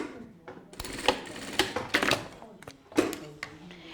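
Short bursts of a sewing machine stitching and backstitching a bag lining, quick whirring runs broken by pauses and clicks, close and fairly quiet.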